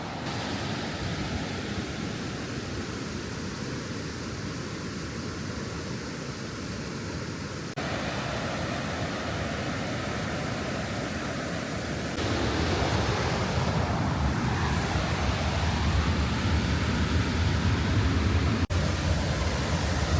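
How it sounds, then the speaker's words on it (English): Chippewa Falls in Ontario roars as a steady broadband rush of falling water, loud and continuous, with the sound shifting twice as the position changes. "I'm just going to have a look at a waterfall. It's called Chippewa Falls."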